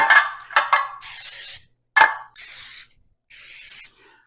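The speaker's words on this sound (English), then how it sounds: "So just a nice little spray." A cooking oil spray can hisses in three short bursts, each about half a second, onto baking tins, between clattering knocks of the metal tins being handled up close.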